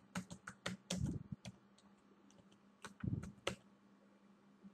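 Typing on a computer keyboard, sharp close key clicks in quick bursts separated by short pauses, fairly quiet.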